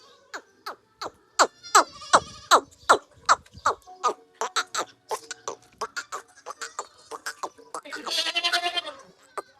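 A goat bleats repeatedly in quick, wavering calls close by in a village herding setting, a long series of loud cries with brief gaps between them.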